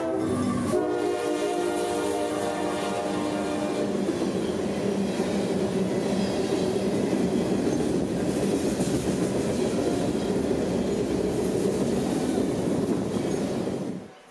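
A CSX freight train rolls past at close range in Central Florida, opening with a loud horn blast and then a long, steady roar of wheels and rattling cars that fades out at the very end.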